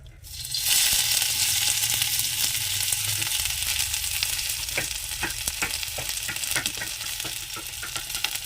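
Onions dropped into hot mustard oil, a sudden loud sizzle that stays steady and close, with sharp scraping stirs of a spatula in the pan toward the end.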